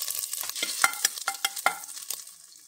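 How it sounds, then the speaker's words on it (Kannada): Thinly sliced garlic and a small piece of ginger fry in oil, a fairly soft sizzle marked by a series of sharp spoon scrapes and taps against the pan at an uneven rhythm, no voices present. "ಇದನ್ನು ಚೆನ್ನಾಗಿ ಫ್ರೈ ಮಾಡಬೇಕು."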